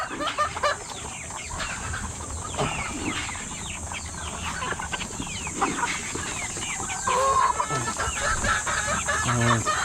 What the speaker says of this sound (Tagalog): Magpapakain tayo ng manok natin.